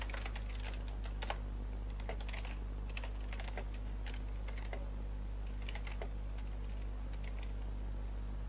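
Database query typed on a computer keyboard, a steady run of quick key clicks with short pauses, close and fairly quiet over a low constant hum, no talking.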